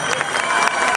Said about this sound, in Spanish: Y también un aplauso muy grande para la gente